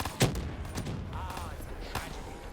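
Pistol gunfire in Black Ops 3 Zombies on the Zetsubou No Shima map, a few sharp shots spaced through the moment amid game noise, with someone talking over them.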